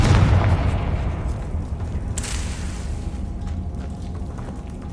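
A Confringo blasting curse bursts in Hogwarts Legacy with a deep booming explosion at the start, followed by a brief crackling flare about two seconds in, then a fading rumble.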